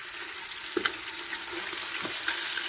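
Meat searing in olive oil in a pan, a steady close hiss of frying with a few soft clinks and bumps of stirring, fairly quiet and without talk.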